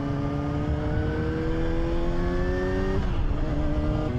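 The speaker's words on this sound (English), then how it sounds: "Oh, Nissan GTR." A Nissan GTR drives past a motorcycle rider on the road, its engine note rising and then dropping as it goes by, loud and steady over rushing wind and the bike's own engine drone.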